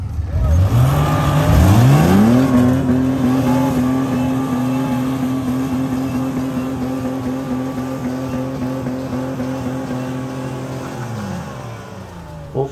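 A Jeep engine off-road revs hard and steadily, a loud, close, sustained roar that climbs and then holds a high pitch for several seconds before dropping, with a short knock at the end.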